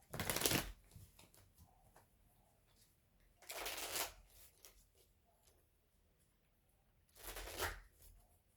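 Tarot cards being shuffled in three separate bursts of riffling, crisp and close, with quiet pauses between them.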